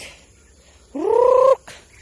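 A single loud, close farm bird call, a short nasal honking gobble that rises and then holds for about half a second, with quiet background before and after. The call is set among ducks on a farm that also keeps goats and chickens.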